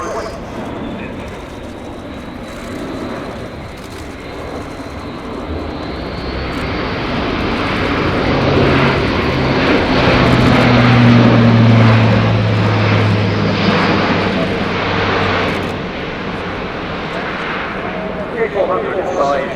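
A German Air Force Airbus A400M Atlas turboprop military transport flies past at an air show with its undercarriage extended, a steady loud propeller and engine roar that swells to a peak mid-pass and stays strong, with commentary over it.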